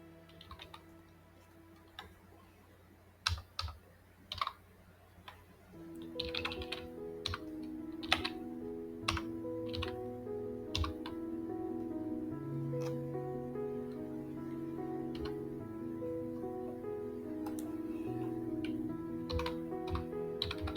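Keystrokes on a computer keyboard as an Excel formula is typed, starting as sparse separate clicks, then continuing as steady close typing over a low background hum for the rest.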